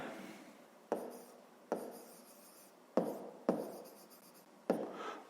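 An equation handwritten on paper, in quiet close scratchy strokes with a handful of sharp pen taps starting new marks, spaced irregularly over a few seconds with no talking.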